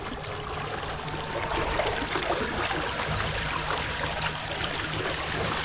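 An ePropulsion eLite 1.5HP electric outboard motor runs in shallow water, a low, steady hum sitting beneath continuous splashing and churning water close by.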